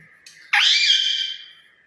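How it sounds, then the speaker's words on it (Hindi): A pet myna bird gives a single loud, close, harsh squawking call that lasts about a second and then tapers off, preceded by a faint softer note. "ये है हमारी मैना जो हमारे साथ करती है गपशप।"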